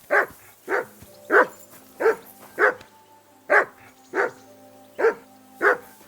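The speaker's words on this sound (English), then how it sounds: "Call off that damn dog before he wolfs down the last of our mates." Dog barking in the video game Kingdom Come Deliverance 2, a steady run of about ten loud, close barks at a regular rhythm, with a low background hum and no talk over them.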